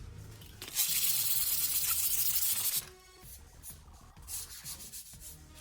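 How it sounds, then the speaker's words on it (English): Fine sandpaper rubs across a surface being smoothed before painting in a DIY home improvement job, giving a loud, close, continuous scratchy hiss for about two seconds before fading into quieter rustling. "Don't want the sandpaper to be too rough. We want something smooth because, as you know, this is the finishing before it is painted."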